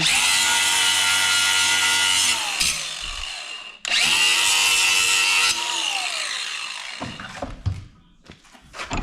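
Angle grinder cleaning spots off metal before welding during a race car build, a loud, close, steady whine in two long runs with a brief stop between, then spinning down.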